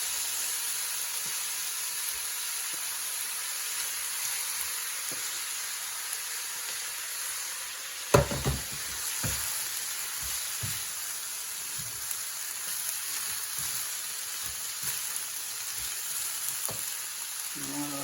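Plain cooked rice fries in a hot pan while bourbon chicken is made, giving a steady, close sizzle throughout, with a clatter of stirring or spooning partway through and a few soft knocks after it.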